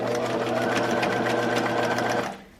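Home sewing machine stitching a wide zigzag of about 3 mm width on a DIY fabric face mask, a fast steady mechanical whirring chatter held for about two seconds before stopping, close and alone without talk.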